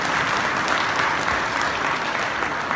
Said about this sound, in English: I think this is the time for the applause.